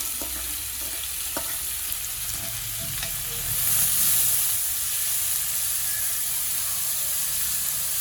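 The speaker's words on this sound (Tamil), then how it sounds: "எண்ணெய் சூடாகிடுச்சுது, வெங்காயத்தை வதக்குவோம்." Onions and curry leaves fry in hot oil for fish cutlets, giving a steady close sizzle and hiss that swells briefly partway through.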